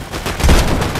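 Gunfire in the video game Fortnite, a loud, dense burst of rapid shots packed into one second, close and punchy with no voices over it.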